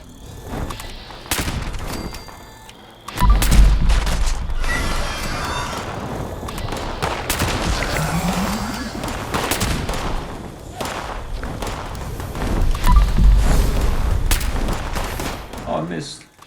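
Heavy, booming shots from a Gauss pistol in the video game Fallout 76 come as several loud single blasts with quieter stretches between them, while a person talks throughout.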